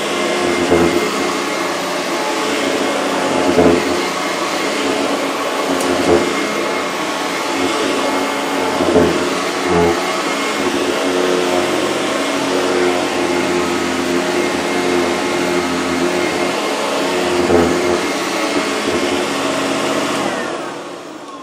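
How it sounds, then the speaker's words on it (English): A Eureka commercial upright vacuum cleaner runs continuously and loudly close by, a steady motor whine with periodic surges as it is pushed back and forth over the floor. "let's give the commercial vacuum another whirl"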